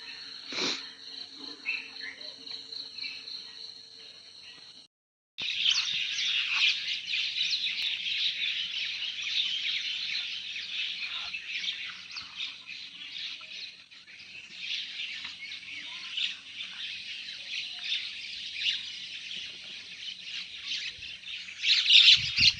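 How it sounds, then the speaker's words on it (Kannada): At dawn in the Dandeli forest, birds squawk and chirp close by over a steady high buzz of insects, with one brief break in the sound. "ಪಕ್ಷಿಗಳು ಕೂಗ್ತಾ ಇದ್ದಾವೆ."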